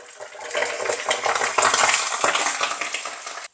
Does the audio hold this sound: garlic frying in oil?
yes